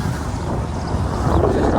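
Strong wind blows through a forest, buffeting the microphone with a continuous low, roaring rumble for the whole short stretch.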